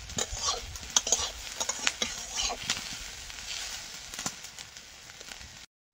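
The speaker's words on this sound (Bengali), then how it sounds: "এবার মাছগুলো দিয়েছি, বরবটির সঙ্গে ভালো করে নাড়াচাড়া দিয়ে মিশিয়ে নিয়ে আর একটু ভাজা করে নেব।" Fish and yardlong beans stirred and fried together in a pan, a soft continuous sizzle broken by irregular scraping and clinking strokes of the spatula, nearby and fairly quiet, stopping abruptly at the end.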